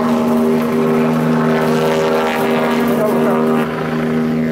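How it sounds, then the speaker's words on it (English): A loud, steady rotor-and-engine drone hums throughout with strong low tonal bands, like an aircraft close overhead, with voices faintly underneath. "Wait for this helicopter to pass over."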